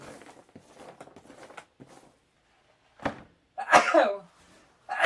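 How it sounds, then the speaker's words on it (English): A single loud, close sneeze bursts out after some quiet murmuring and rustling, followed shortly by another brief sharp exhale. "Oh, sneeze."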